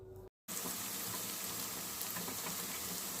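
Steady, dense sizzling of tomatoes frying with onions in oil and butter for a paneer butter masala gravy, holding even after a brief cut near the start.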